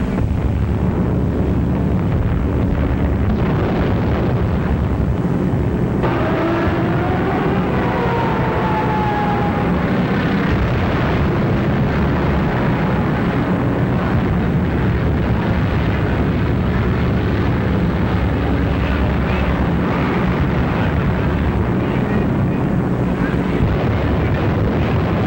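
A wartime bombing raid comes through as loud, sustained, distorted rumbling roar with heavy low-end blasts, a droning engine tone rising partway through, the whole stretch dense and unbroken.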